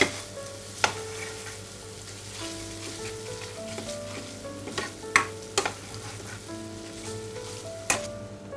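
Spices frying in a pan for masala eggs, a steady low sizzle with scattered sharp clicks and taps of a utensil against the pan, close and alone without talk.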